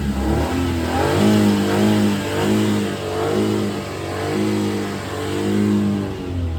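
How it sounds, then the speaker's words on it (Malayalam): A used car's engine idling and revving in repeated rising and falling swells, loud and close, with a steady low drone between pulls and no voices. "ഇതൊന്ന് സ്റ്റാർട്ട് ആക്കിയിട്ട് അതിൻ്റെ എഞ്ചിൻ സൗണ്ട് കാര്യങ്ങളെല്ലാം കാണിക്കുന്നുണ്ട്."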